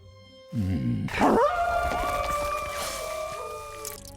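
Wolves howling in the animated film Swapped, several long, rising and wavering howls overlapping after a brief lower vocal burst, loud and sustained before fading.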